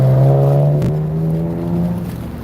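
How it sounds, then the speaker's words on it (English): A car accelerates in road traffic, its engine note rising in a strong, close tone with a brief dip before climbing steadily again over continuous road rumble. "Man, the traffic today is crazy."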